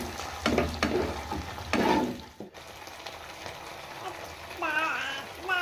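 Cauliflower chilli being stir-fried with onion, capsicum, vinegar and red and green chilli sauces, a steady close sizzle with bursts of scraping stirs, ending in a brief squeaky scrape.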